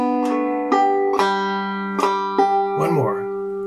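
Banjo in open G tuning playing a drop-thumb 1-2-3-5 pattern ending. About five separate plucked and strummed notes ring out, bright and close, each sustaining into the next with no other sound.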